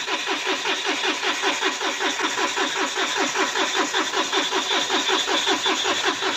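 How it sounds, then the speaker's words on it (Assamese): A Mahindra Bolero BS6 diesel engine cranks without starting after stalling on the road with a DEF fault. The starter churns in a fast, even pulsing rhythm that holds steady the whole time and never catches. "ফুল ক্ৰেংকিং লৈ আছে বাট ইঞ্জিনে কোনো ৰেছপন্স কৰা নাই"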